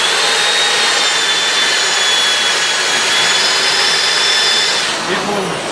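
A drill bit chatters against unannealed steel before heat treatment in a blacksmith's shop, a loud, steady whirring grind with a harsh high whine that holds for about five seconds and then tapers slightly.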